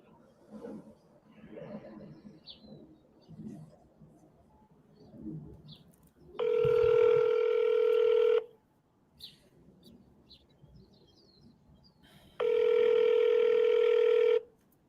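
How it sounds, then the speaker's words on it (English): Outgoing phone call ringback tone: two long, steady electronic ring bursts about two seconds each, separated by a pause, loud and clear against a quiet background with brief faint sounds in between. "Let's call Jacqueline, see what's cracking"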